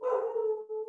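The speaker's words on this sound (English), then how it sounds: "that's my dog" A single short dog bark, close and fairly loud, with a tonal yelping quality that trails off, heard alone without other sounds.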